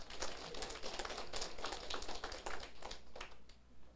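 Faint, continuous clapping from an audience at a lecture hall session, a busy patter of many hands that stays fairly even throughout and sounds distant and low in level.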